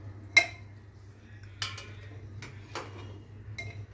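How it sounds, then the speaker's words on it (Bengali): Boiled eggs and potatoes set one by one into a bowl of cold water: four sharp, separate clinks against the bowl, spaced about a second apart, over a low steady hum. "এবারে ডিম আর আলুগুলো তুলে এই ঠান্ডা জলে রাখবো।"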